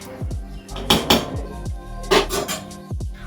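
Pots, pans and utensils clatter in a home kitchen as someone cooks, with repeated sharp metallic knocks and scrapes coming close and fairly loud in irregular bursts.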